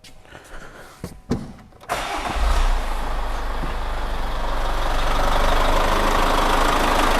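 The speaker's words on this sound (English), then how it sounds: "All right, so now the car's running." A 2017 Chevrolet Captiva starts after a few quiet clicks and knocks, its engine catching with a loud rumble and then settling into a steady, even idle close by.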